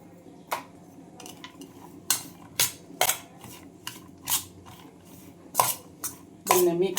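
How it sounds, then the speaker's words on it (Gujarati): A spoon clinks and scrapes against a bowl while stirring salted shredded carrot and cabbage, a series of sharp, close metallic taps at irregular intervals over quiet background. "ચમચીથી આપણે હલાવી લઈએ"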